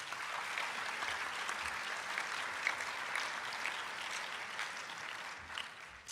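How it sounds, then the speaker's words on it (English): A round of applause for high school students at a Montgomery County summer program closing ceremony, steady continuous clapping from an audience, moderately distant and even throughout. "Let's give them a round of applause"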